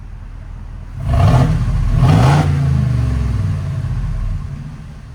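A 2021 Ford F-250 with the 6.2L V8 revs with its exhaust valve open, giving two loud, close throttle blips and then a deep, steady rumble at a raised idle.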